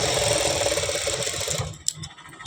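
Electric sewing machine stitching the sleeve seam of a blouse, a steady dense whirring rattle for about a second and a half before it stops, leaving a few faint clicks.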